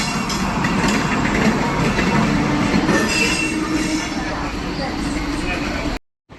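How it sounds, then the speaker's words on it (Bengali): A WAP7 electric locomotive train at Howrah rolls past close by, a loud continuous rumble with wheel noise and squeal that cuts off abruptly at the end, with voices faintly mixed in. "এই হচ্ছে WAP7 লোকোমোটিভ হাওড়া সেটের।"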